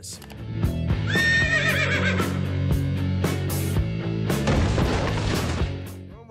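A horse whinnies loudly over a busy, music-like background with thumping booms and clattering hoof-like beats.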